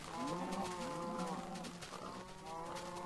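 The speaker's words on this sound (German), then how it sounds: "Und was macht die Kuh da?" A cow in the Minecraft video game moos repeatedly, several drawn-out lowing calls in close succession at a moderate level, with no talk over them.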